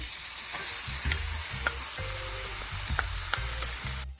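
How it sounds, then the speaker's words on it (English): Onions and garlic sizzle together in a pan, a loud, steady frying hiss with soft stirring bumps and occasional crackles, close and without speech. "I'm gonna add my onions and my garlic and let them cook together for like a minute or so"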